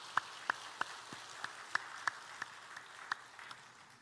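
A church congregation at a Sunday worship service claps hands in a faint, slow, evenly spaced rhythm, the individual claps distinct against a quiet room.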